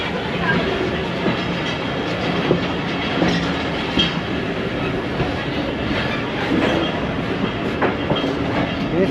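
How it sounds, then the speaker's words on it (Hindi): Ravi Express passenger train leaving Lahore on the Lahore to Nankana route, a steady loud rumble of wheels on rails with rhythmic clatter throughout, faint voices in the carriage underneath. "वारबर्टन से चल पड़ी है ये ट्रेन हमारी।"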